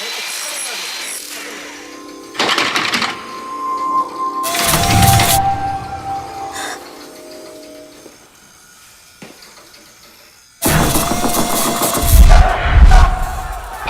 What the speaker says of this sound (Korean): 밖에서 들려오는 공사 소리에 잠에서 깬